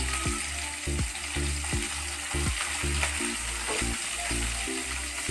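Chopped onions fry in hot oil in a pot for jackfruit curry, a steady close sizzle with rhythmic scraping stir strokes throughout.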